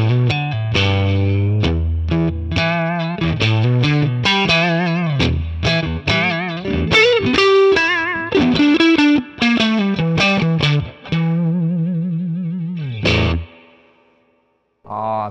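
Electric guitar played through a Two Rock Studio Signature amp on its 2-Rock setting with overdrive and reverb, a loud run of sustained chords and single notes ringing out, then a brief pause and a final strum.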